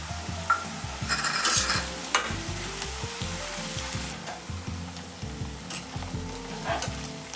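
Chili thecha being stirred into frying eggplant for Khandeshi vangyache bharit, a steady close sizzle with repeated scraping stirs of the spoon against the pan, no voices.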